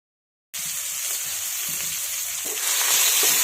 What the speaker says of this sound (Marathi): हिरवी मिरची आता छान आपण परतून घेऊया.